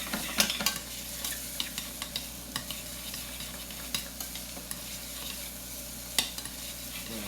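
Ginger frying for apricot chutney, stirred in a pan with a steady soft sizzle and light scraping clicks, quiet and close with no voices.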